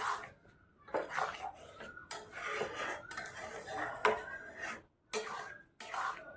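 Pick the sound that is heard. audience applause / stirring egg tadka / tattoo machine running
stirring egg tadka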